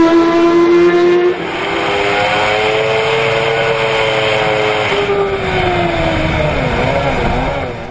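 A Kawasaki Ninja ZX-10R Endurance, a World Championship endurance racing motorcycle, accelerating hard: a loud, close, high-revving engine whose pitch drops briefly at a gear change, then climbs again in a sustained roar.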